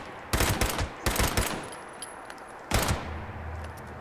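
.308 rifles fire in Fallout 76 in three sharp rapid bursts, two close together at the start and one after a pause, loud and near, with a low lingering rumble after the last volley.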